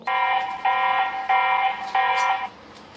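A security camera's electronic alarm sounds in four sharp, repeated bursts of harsh buzzing tones, loud and close, each lasting about half a second with short gaps.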